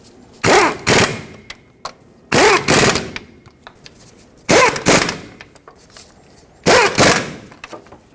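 An impact wrench snugs the hub bearing mounting bolts on a Ford F-350 in four loud, close bursts of rapid hammering, each roughly a second long, separated by short pauses.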